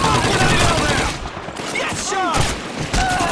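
Gunfire in the video game Call of Duty 2, loud rapid bursts of shots that pause briefly and resume, with someone talking over parts of it.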